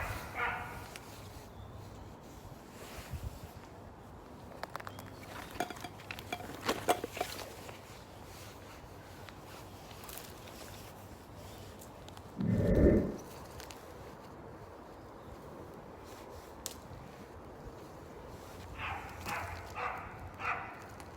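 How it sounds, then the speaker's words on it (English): A dog barks in the distance below a campsite where a tarp is being pitched, one brief muffled bark standing out over steady outdoor background noise with scattered faint knocks. "So there is a dog down there, as you can hear, so it's causing a bit of a rammy."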